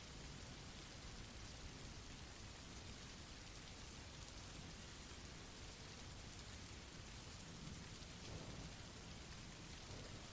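Steady rain pours down with occasional low rumbles of thunder in a continuous storm, loud and even throughout with no voices.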